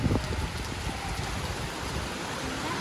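Heavy rain pours down steadily near a home, a dense continuous hiss with splashing drops, close and loud, without any voices.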